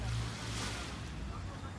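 Ocean waves rolling onto a beach at night in Montego Bay, Jamaica, a steady broad rushing wash with a low rumble, close and continuous.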